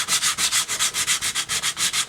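Wood surface sanded by hand with 150 grit sandpaper, a steady rhythmic back-and-forth rasp of about fifteen quick strokes, close and alone without speech.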